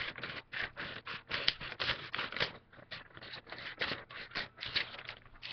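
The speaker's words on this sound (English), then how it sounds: "you're gonna pick up your scissors. You're going to cut them in the middle." Scissors cut through notebook paper in a quick series of close, crisp snips and rustles, repeated rhythmically and fairly quietly, with no speech.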